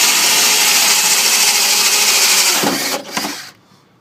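A drill fitted with a bore bit grinds steadily through a wooden door for about two and a half seconds, then stutters in short bursts as the bit breaks through and the motor winds down to silence.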